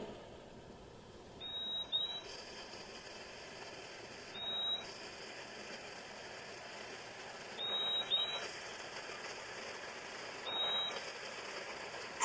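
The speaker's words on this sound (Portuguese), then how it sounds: "Agora veja o canto do fim-fim." Fim-fim bird song: four short, high bright notes, each a quick doubled chirp, spaced a few seconds apart over faint background hiss, fairly close and alone.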